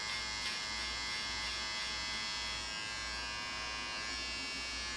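An electric hair clipper hums and buzzes steadily and faintly while trimming hair, a continuous close motor drone with slight changes in tone as it moves.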